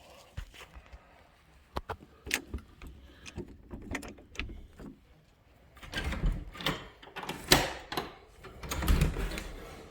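Clatter of a back door being opened at a house, with irregular knocks, rattles and scraping that grow busier and louder in the second half, near and uneven.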